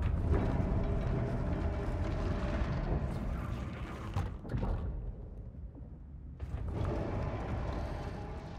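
Grinding, rumbling elevator mechanism in the sci-fi horror game Scorn: a dense, continuous mechanical churn with rattling gear-like textures, easing into a muffled lull midway before the full loud grind returns.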